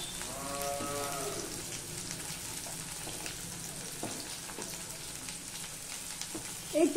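Onion fries in oil with a fenugreek tempering, giving a faint, steady sizzling hiss, with a brief tonal sound early on and a soft clatter at the very end.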